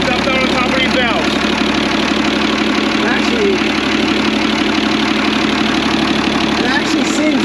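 A boat motor runs steadily at idle throughout, a smooth continuous engine drone with voices talking over it.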